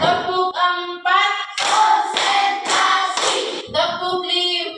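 Schoolchildren in a fifth-grade classroom clap together in time, a run of loud rhythmic hand claps sitting among chanted singing voices.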